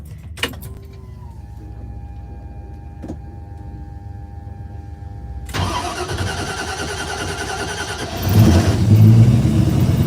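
A 1968 Ford Mustang with a manual gearbox sits quiet with a few small clicks before its engine cranks and catches, settling into a steady idle, then revs up louder near the end.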